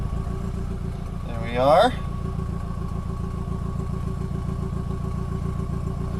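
A vehicle engine running on a tuned ECU after its fuel pump is switched on, idling steadily throughout with a brief louder rising burst near the start, under a man's nearby speech.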